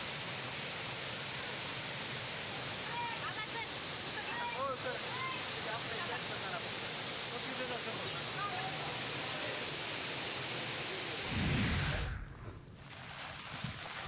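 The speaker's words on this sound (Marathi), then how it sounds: "रामलिंग धबधबा जो आहे तो ओसंडून वाहताना आपल्याला दिसतोय" Ramling waterfall at Yedshi, Dharashiv, overflowing with water, a steady broadband rushing roar that holds constant for most of the stretch before a brief low thump and a quieter close.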